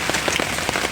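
Rain falling outside on a misty mountain during a hike on Gunung Cikuray in West Java, a dense steady patter on surfaces, close and continuous, with no voices.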